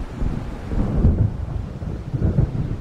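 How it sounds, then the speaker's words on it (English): Deep rolling thunder from an approaching storm over the sea in the video game Alan Wake, two low rumbling swells under a steady background of wind and rain, fairly loud and close. "It seems there's a storm coming."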